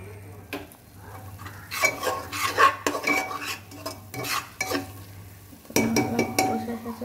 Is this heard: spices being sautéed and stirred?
yes